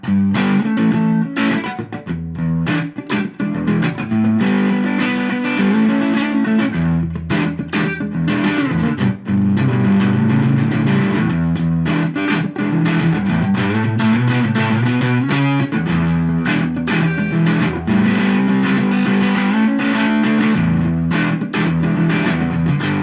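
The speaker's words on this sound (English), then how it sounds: "I'm rocking the Fender Ultra Strat. I'm going into the Dunlop Jimi Hendrix band of Gypsies Fuzz into the Fender Deluxe Reverb" A Fender Ultra Strat played through a Dunlop Jimi Hendrix Band of Gypsys Fuzz into a Fender Deluxe Reverb amp gives thick, distorted rhythm guitar, with chords, chops and muted strums in a steady groove throughout.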